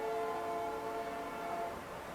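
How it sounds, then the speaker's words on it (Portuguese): Train horn sounding at night, a steady sustained horn tone held throughout, fairly distant and alone with no talk. "Mesmo assim, o trem está buzinando."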